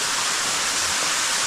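Water flows through a cave with a loud, steady rushing roar, a continuous broadband hiss like a small waterfall close by, with no voices.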